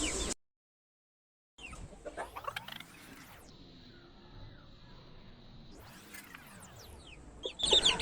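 Several chickens, fighting rooster breed, cluck and squawk close by on a farm, with short irregular calls over background rustling and clattering.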